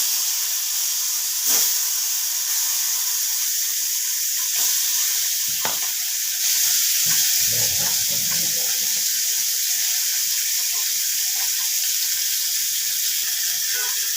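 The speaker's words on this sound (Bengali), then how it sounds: "সব কটা মাছ একসাথে ভেজে তুলে নিচ্ছি" Small parshe fish fry together in hot oil in a wok, giving a steady, loud hiss and sizzle that runs throughout, with a few faint clinks of handling and no talking.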